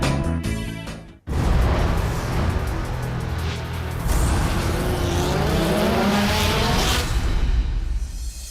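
DTM race cars at the Nürburgring in 2012 roar loudly past after a short burst of engine revs and a brief gap, their engines screaming and shifting up and down through a sustained, close, powerful pass with some tire noise.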